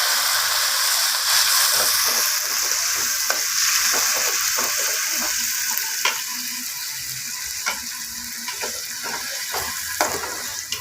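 Ground shallot and tomato paste frying with onions in a pan, a steady, close hiss of sizzling oil with light stirring scrapes running throughout, no voices.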